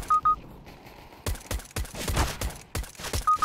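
A quick run of gunshots bursts out in the middle of a CS:GO match, with short electronic beeps at the start and end.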